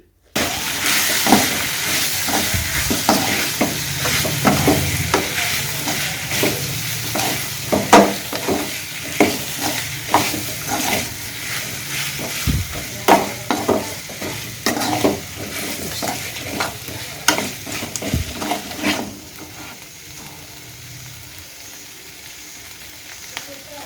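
Paper chicken frying in a pan while being stirred, with a hissing sizzle under repeated scraping and clattering strokes, the stirring dying away near the end to leave a faint hiss.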